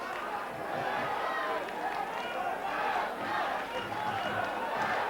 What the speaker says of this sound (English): Crowd becoming a little bit restless.